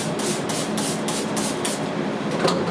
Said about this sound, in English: You're going to spray 6 to 7 sprays of emulsion remover on both sides of the screen.